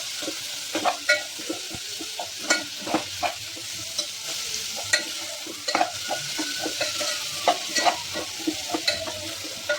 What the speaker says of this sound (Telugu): నెక్స్ట్ టమాటా కూడా యాడ్ చేసేస్తున్నాను అనమాట. ఇది కూడా మంచిగా రోస్ట్ చేసుకోవాలి.